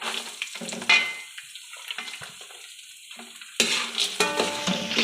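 Garlic dropped into hot oil with peanuts sizzles and crackles in bursts, with stirring scrapes and a louder renewed sizzle near the end; no one speaks.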